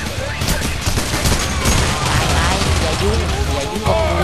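Dense, continuous gunfire from a heist shootout in PAYDAY The Heist on the Heat Street level, loud volleys layered with other game noise and excited talking throughout.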